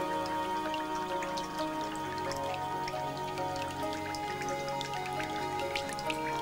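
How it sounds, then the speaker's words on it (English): Rain dripping in the Amazon rainforest, scattered drops pattering irregularly and close over a steady wash of water and ambient tonal background, soft and continuous without voices. "This rain, tumbling in the Amazon today, might once have flowed through Imperial Rome or slaked the thirst of a dinosaur."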